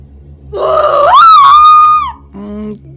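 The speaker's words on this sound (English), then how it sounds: "Unfortunately, her scream hadn't aged well." An aging actress's signature scream in What Remains of Edith Finch: a strained, croaking vocal cry that rises and wavers for about a second and a half, then trails into a short lower groan, loud and close over a faint low hum.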